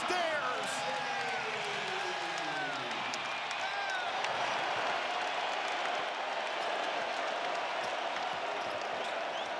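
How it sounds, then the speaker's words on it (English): College basketball arena crowd at a Michigan vs Wisconsin game, steady roar of cheering and applause at moderate distance, with sneaker squeaks and a commentator talking over it. "Crowd now involved."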